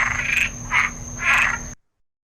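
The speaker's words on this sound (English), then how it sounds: "But frogs only can say croak croak." Three distinct croaks from frogs, each a short raspy burst spaced about half a second apart, close and fairly loud, followed by silence.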